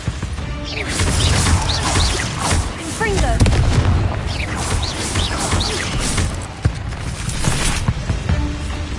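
Repeated blasts of the Confringo fire spell in Hogwarts Legacy, dense booming explosions rolling one after another, loud and close, amid a busy battle din.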